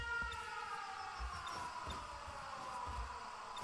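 Wailing air raid sirens from the video game 13 Sentinels: Aegis Rim, a sustained faint tone slowly sliding downward in pitch, with soft low thumps pulsing underneath and no speech.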